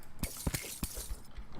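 Orbs shattering in Terraria 1.2.4, a few sharp breaking crunches at a steady pace over an ongoing game background, with no talk.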